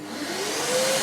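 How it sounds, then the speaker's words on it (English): A workshop dust extractor used with a Festool CSC SYS 50 table saw spins up, a steady close vacuum-like roar with a motor tone rising slightly in pitch over about a second. "I'm going to start my extractor."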